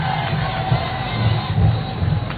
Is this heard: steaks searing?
no